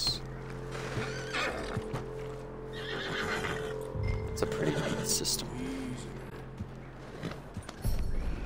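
A horse whinnies amid hoof clip-clops and other scuffling in Red Dead Redemption 2, while a person talks over the sounds.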